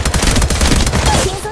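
Rapid automatic gunfire in the video game Apex Legends, a loud, dense burst of shots firing in quick succession, close and continuous through the whole moment.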